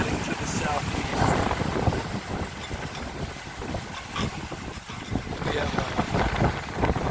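Strong northwest wind roars across the microphone aboard a Cal 29 sailboat running before 30 to 35 knot gusts southwest of Cape St. James, with steady buffeting and rushing water under a brief voice.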